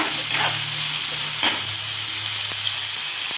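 Green chillies and tomatoes are sautéed in a pan in a Konkan village kitchen. A loud, continuous sizzle runs throughout, with a few brisk spatula stirs and a low steady hum underneath.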